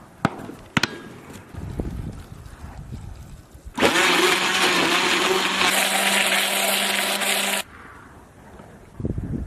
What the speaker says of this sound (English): just like any other run-of-the-mill blender, it's gonna have a hard time chopping up ice very finely